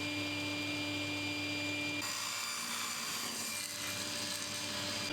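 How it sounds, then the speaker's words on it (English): A table saw rips a narrow strip of wood to blade-kerf width for a finger joint jig, a loud steady whirring hum with the blade's tone shifting partway through the cut, no voices. "I can then rip down another piece of wood to the size of the blade kerf"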